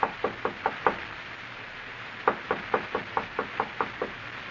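Knocking on a door in two bursts: a quick run of five sharp raps, a pause, then a longer run of about eight, crisp and close with no one speaking.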